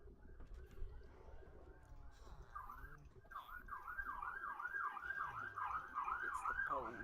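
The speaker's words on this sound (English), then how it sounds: "Actually, it's an ambulance. It's the ambulance. That's the Hyman ambulance sound." An ambulance siren wails in a repeating rising-falling pattern, distant at first and then louder and steadier, over a busy background.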